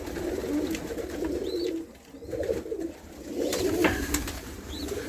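Racing pigeons coo inside a loft, their soft low throaty calls repeating at moderate volume over a muffled background of rustling and movement.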